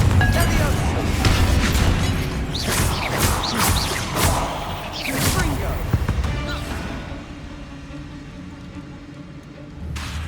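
A Confringo spell in Hogwarts Legacy bursts in a series of loud booming blasts and crackling impacts amid game noise, the explosions fading into a quieter rumble over the last few seconds.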